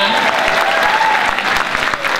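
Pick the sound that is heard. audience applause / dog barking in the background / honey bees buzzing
audience applause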